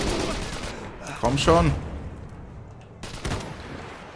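Gunfire in the Iron Harvest strategy game crackles and pops in scattered bursts, partly under a voice speaking German and the game's own unit voices.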